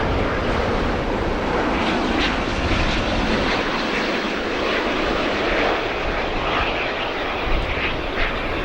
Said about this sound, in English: our A350 Etihad is on final approach and coming over the hill in just a moment now